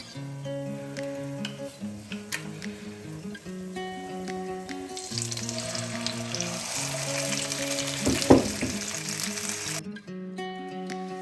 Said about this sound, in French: Une fois que le poisson a bien mariné, on va le frire.